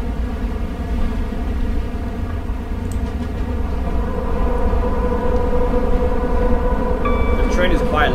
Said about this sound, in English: The train is quite loud in the tunnel